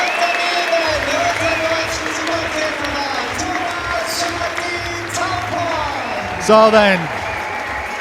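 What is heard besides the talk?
crowd cheering at climbing championships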